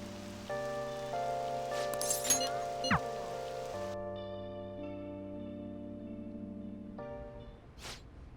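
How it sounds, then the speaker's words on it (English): Steady rain falls in the Persona 5 Royal video game, a soft continuous patter running beneath sustained electronic music tones and chords, with brief swooping effects breaking in partway through. "Oh, it's raining."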